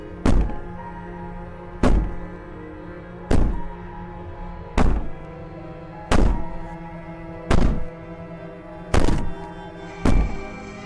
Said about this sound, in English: Maybe the banging and wailing will stop if you just don't pay attention to it.